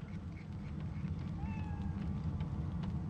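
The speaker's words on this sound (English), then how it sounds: "I heard the kitty." A brief meow from a skeleton cat in the video game Divinity rises once, faint over a steady rumbling game ambience.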